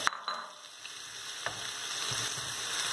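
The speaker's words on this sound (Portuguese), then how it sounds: "Vamos fritar aqui, ó." Potato pancake filling with chopped green onion frying in a pan on the stove, a steady close sizzle with a few sharp stirring clicks and scrapes, no voices.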